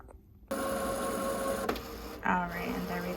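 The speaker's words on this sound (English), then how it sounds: "Now it's starting to print out." A sublimation printer prints a mug design: a steady, loud mechanical whir and hum starts abruptly, with a brief shift partway through and a louder carriage movement near the end.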